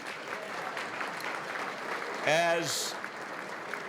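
Audience applauding at the 2011 Massachusetts Broadcasters Hall of Fame induction ceremony, a steady wash of clapping throughout, briefly overlapped by a voice near the middle.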